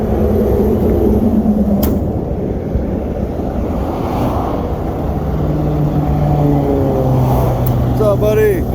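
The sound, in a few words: Volvo VNL semi truck engine running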